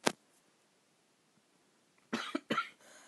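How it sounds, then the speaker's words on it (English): A person coughs several times in quick bursts, one sharp cough at the start, then a pause and a cluster of three rough, close coughs near the end, no talk. "I've still got a bit of a cough"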